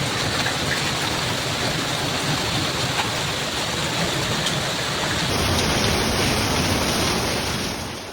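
A hailstorm with heavy rain pounds the A4 motorway near Cavanago in Italy, making a loud, dense, steady roar that fills the whole stretch without a break. No voices are heard.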